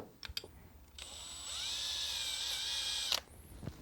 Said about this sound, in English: I'm just chasing the threads with a 5/16 24 pitch tap